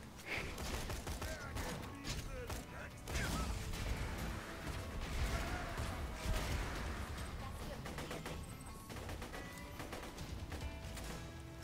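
Rapid gunfire and crashing impacts from the video game Borderlands 2, dense bursts of shots and clattering mechanisms running continuously and fairly quiet throughout.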